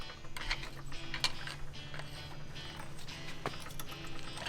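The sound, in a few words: flat blade screwdriver prying between brake rotor and pad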